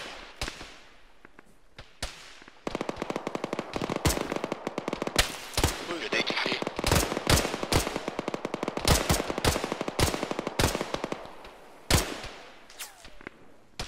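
Sustained machine-gun bursts in a multiplayer shooter, loud and close, with rapid rattling runs broken by sharp single cracks across the whole stretch.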